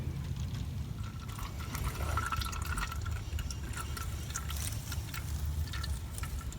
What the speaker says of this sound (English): So the oil is almost done draining.